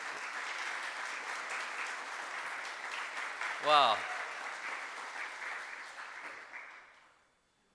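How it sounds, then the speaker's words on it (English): Audience applause for a woman moderator at a schools quiz semifinal and final, steady and sustained across the clip before fading out, with a brief spoken exclamation near the middle. "let's give her a big round of applause"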